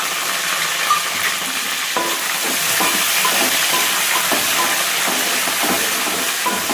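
Green chilies fry in a pan of oil for tamarind pulihora, a loud continuous sizzle and hiss close up, with occasional scrapes and stirring taps of a spoon against the pan.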